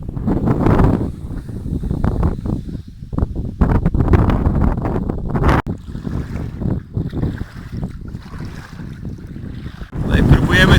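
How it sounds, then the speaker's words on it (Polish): Strong wind buffeting the microphone during a kayak trip on the Nida river, loud rumbling gusts that rise and fall, with water sounds and occasional voices underneath. "Wieje chyba coraz mocniej"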